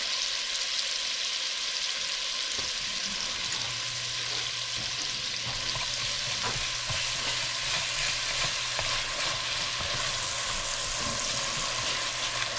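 Short rib ragu stirred in a pan over medium-low heat, a constant bright sizzle with occasional spoon scrapes and a low steady hum underneath throughout.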